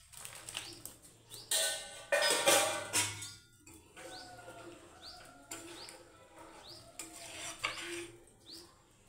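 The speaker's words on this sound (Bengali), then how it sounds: "বন্ধুরা এবার পনিরটা দিয়ে দেবো।" Paneer tipped into a pan and stirred, giving quiet metallic clinks and scraping in short bursts, with a soft hiss between the strokes.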